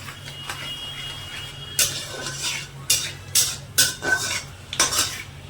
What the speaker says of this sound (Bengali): ভালো করে ভাজবো মোটামুটি দু মিনিট মতো মশলাটাকে ভেজে নেবো